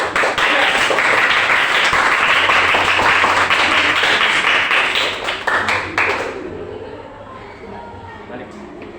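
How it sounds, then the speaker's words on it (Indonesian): A university classroom claps for a student group after its presentation, with a dense burst of many hands that holds for about six seconds and then thins out into scattered claps and quiet murmuring. "Kita kasih aplaus buat kelompok"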